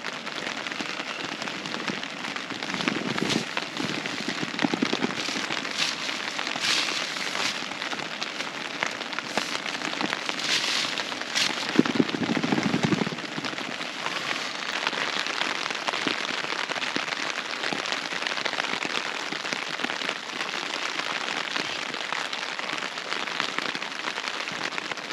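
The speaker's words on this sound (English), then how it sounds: "Well, the rain has come back," Rain falling steadily on a wild camp on Silver How in the mountains, a constant close patter of drops on a surface, with brief louder gusts and taps mid-way.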